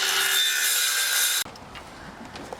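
Saw cutting through a wooden plank for a vanlife herb garden build, a loud continuous rasping stroke that stops abruptly partway through, leaving faint scattered rustles and taps.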